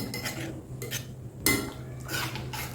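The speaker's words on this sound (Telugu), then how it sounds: "ఇవి ఇలా కలుపుతూనే ఉండండి ఈ సేమియా ఈ పాలల్లో చక్కగా ఉడికే వరకు మెత్తగా ఇలా కలుపుతూనే ఉండండి" Roasted vermicelli stirred into milk in a cooking pot, a spoon scraping and clinking against the metal in short bursts, close and fairly quiet, with no talking.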